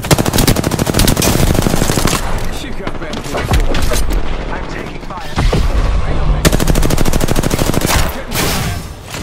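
Rapid automatic gunfire from the Apex Legends battle royale game, loud and dense, with sustained bursts of shots broken by short pauses and heavy impact booms.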